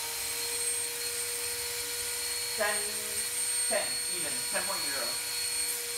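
A vacuum cleaner with a clogged intake runs at a steady, loud motor whine with a constant hum, while someone talks over it throughout.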